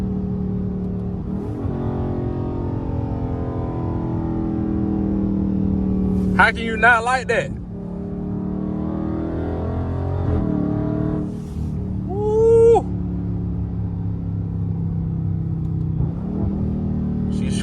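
Dodge Charger 392 Scat Pack exhaust droning and swelling through revs while driving in sport mode, a steady loud engine rumble with rising pulls, someone talking over it in the cabin.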